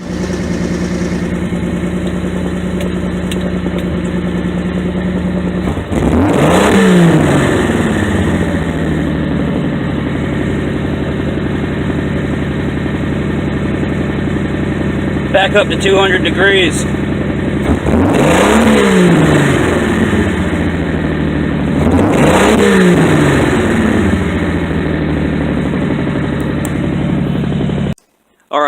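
A 1975 Plymouth Valiant with a Slant 6 engine starts up for the first time in over a year and revs in several loud surges, settling to a rough idle between bursts, with a brief spoken remark.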